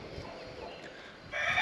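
Bresse chickens and roosters in a coop, soft clucking close by, with a brighter squawk rising near the end over steady farmyard ambience.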